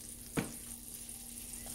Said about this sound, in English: So you can hear that starting to sizzle.